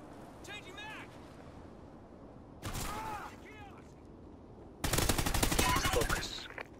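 Video game gunfire erupts in two short bursts of rapid shots, then a longer, louder sustained barrage, with a voice talking in between.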